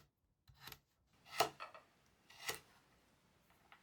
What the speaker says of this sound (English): Divide the burdock into quarters and cut them into small dices as well.